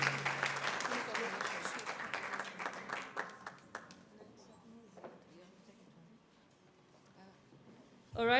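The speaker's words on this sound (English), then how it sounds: "Let's clap for them once more time." An indoor audience at an International Migrants Day event bursts into loud applause that fades away over several seconds, and a voice begins speaking as the clapping dies down.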